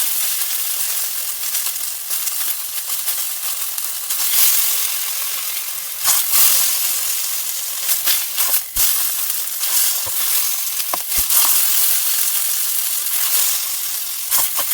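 Steak searing in a frying pan over reduced heat, giving a steady bright sizzle and hiss throughout with occasional louder crackles and pops, no talk.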